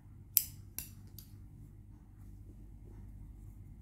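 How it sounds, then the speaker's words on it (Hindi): Scissors snip crochet thread for earrings: two or three crisp metallic cuts close together near the start, then a quiet background hum. "अब एक चेन बनाएंगे और अपनी थ्रेड को कट कर लेंगे।"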